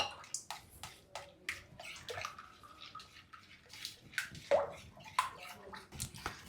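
Thinned wheat flour dosa batter is stirred in a bowl, giving soft repeated sloshing and slapping liquid strokes in a quick irregular rhythm, close and fairly faint.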